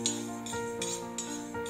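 Rice dry-roasting in an iron kadai, a spatula scraping and stirring it in regular strokes roughly three times a second over a steady tonal hum underneath.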